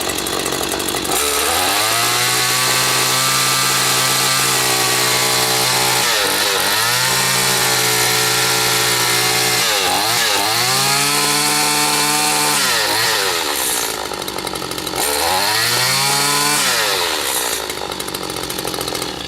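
A Stihl FS80 string trimmer engine warms up, close and loud, its two-stroke buzz rising and falling through several revs and then settling back to a rough idle. No one speaks.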